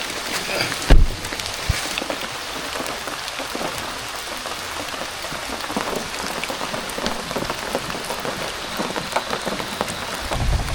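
Rain pours down steadily at a forest campsite, pattering hard on a nearby surface, with one louder knock near the start.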